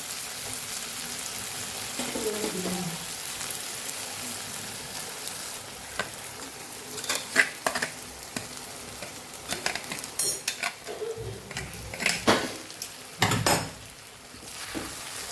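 Potato poha with sautéed tomato being stirred in a frying pan for kathiyavadi bateta pauva: a low sizzle runs throughout, with scattered spoon scrapes and clinks against the pan growing busier toward the end, and no talking.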